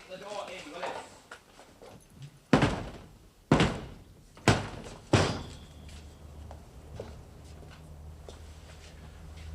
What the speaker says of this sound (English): Kick the door in, will you?